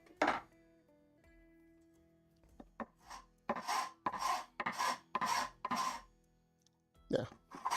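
A half-round file rasps across a garden tool in a series of short, quiet, scraping strokes, some bunched in quick succession and separated by brief pauses.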